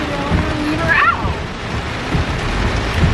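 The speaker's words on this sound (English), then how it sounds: "Y'all, it's raining so bad." Heavy rain pouring down outdoors in town, a dense continuous wash of hiss with a person speaking briefly over it.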